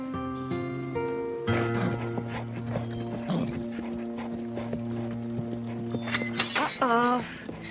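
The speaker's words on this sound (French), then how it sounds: "Pourquoi Jenna est-elle montée sur ce cheval?" A horse clip-clops along and lets out a loud whinny near the end, with music and voices running throughout.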